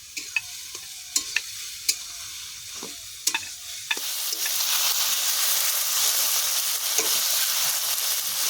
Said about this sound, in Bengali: মাংসের জন্য চিকেন কষানো হয়ে গেছে, এবার চিকেনটা দিয়ে ভালো করে কষাবো